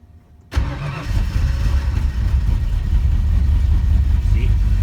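A cold 1964 Mercury engine fitted with Holley Sniper EFI fires up abruptly after a brief silence, then runs at a loud, rough, steady idle. Someone speaks faintly.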